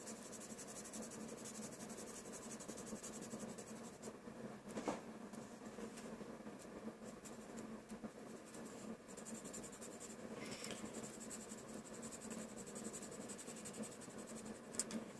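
Pencil drawing and shading on paper, heard as a soft, steady scratchy hiss of continuous strokes at close range with no voices.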